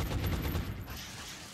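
Rapid volley of gunfire in XCOM: Enemy Within with the Long War mod, dense overlapping shots that are loud for the first moment, then thin into a steady rumbling tail.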